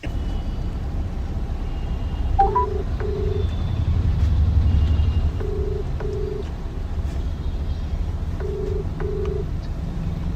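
A telephone call rings out on the line: a low electronic tone sounds in pairs, with three double-rings spaced a few seconds apart over steady background hiss.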